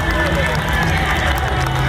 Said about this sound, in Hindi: मिस्टर विक्रांत चंद्रायन के लिए मैं चाहूंगा कि आप लोग एक बार जोरदार तालियां